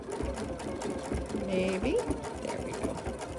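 Home sewing machine stitching fabric, a steady mechanical whir with a short pause while the work is pivoted at a corner, close and continuous under brief quiet talk.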